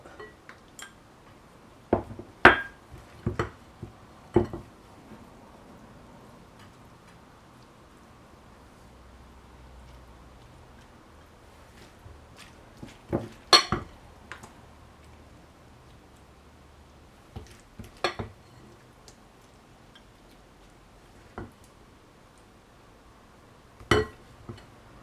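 Dishes and cutlery clink in scattered bursts while coleslaw is served, a few sharp taps clustered together, then quiet gaps before more clusters, moderately close in a quiet room with no talk.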